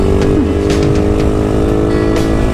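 A first-generation Raider 150 motorcycle revs loud and close, a sustained buzzing engine note with brief throttle blips and no talking.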